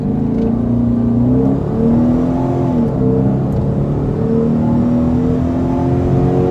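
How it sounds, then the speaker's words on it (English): A supercharged Dodge Charger Daytona on new wider tires launches from a dead stop at full throttle, its engine note climbing steadily in pitch through the gears, loud and close with a whirring edge and no voices. "I put the pedal to the floor and just let it go."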